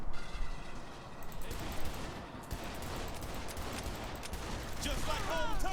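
Pistol fire in the Saints Row 3 video game, a rapid string of sharp game gunshots crackling through a busy mix of sound effects, with players talking over it.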